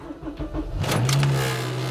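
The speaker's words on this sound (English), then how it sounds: "hop in your car, start the car up" An Acura RSX Type S engine starts with a short cranking burst, then settles into a steady idle, heard close and fairly clear over about two seconds.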